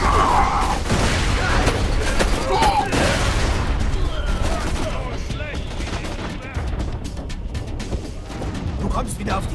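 Dense, rapid turret gunfire rattles in the Borderlands 2 video game: continuous loud bursts and booms across the whole stretch, with voices talking over the shooting.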